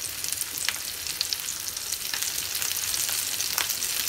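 Red snapper deep-frying in plenty of hot oil in a pan, giving a steady, close crackling sizzle with bright pops scattered throughout and no voices.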